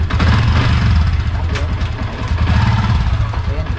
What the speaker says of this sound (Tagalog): So, ayan, on natin yung motor, syempre. Then, paanda rin natin.